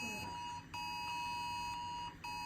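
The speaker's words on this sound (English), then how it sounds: "There's that test alarm." A steady, piercing electronic test alarm sounds from an emergency alert device, a continuous high beeping tone that cuts out briefly twice before resuming.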